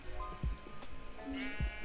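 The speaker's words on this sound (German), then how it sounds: "Hallo Schafe." Sheep bleat in the Minecraft video game, two brief game-sound calls in quick succession with no talk over them.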